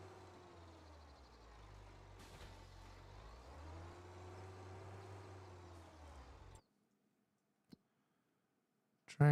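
Tractor engine idling steadily in Farming Simulator 25 on a Scottish farm, a low continuous drone for several seconds before it cuts off abruptly into silence, followed by a couple of faint clicks.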